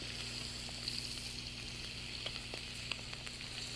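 Salt pork fries in a pan, giving off a steady, faint, even sizzle with a few small pops and crackles and no talking.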